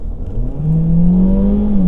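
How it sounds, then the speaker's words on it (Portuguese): A Citroen C4 Cactus turbo accelerates at full throttle, heard from inside as a loud, steady engine drone whose pitch rises smoothly as revs climb over about two seconds, with no talking. "E vamos agora acelerar tudo."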